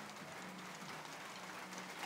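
Rain falling steadily in Chalatenango, El Salvador, a faint, even hiss with no voices.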